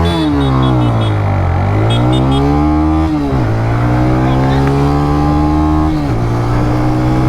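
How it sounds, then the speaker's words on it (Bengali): A TVS Raider 125 motorcycle accelerates hard through first and then higher gears, its loud close engine note climbing in pitch and dipping at each of several quick gear changes, with steady wind rush underneath. "এবার চলুন তাহলে কথা না বাড়িয়ে এবার এটার যে অ্যাক্সেলারেশন টেস্ট ওটা করা যাক"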